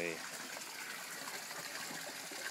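Water drains from a gravel grow bed in an aquaponic system, a steady close rushing gush that runs without a break for the whole moment.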